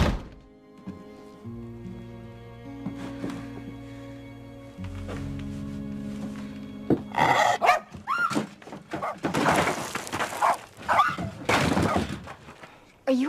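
A dog named Violet barks in short bursts over swelling orchestral music in a Christmas film scene, with a thump and shattering noise near the end.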